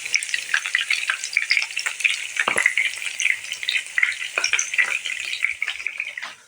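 Homemade mutton koftas frying in hot oil, a close, bright, crackling sizzle with rapid spitting pops and an occasional clink of utensils, steady throughout before tapering at the end.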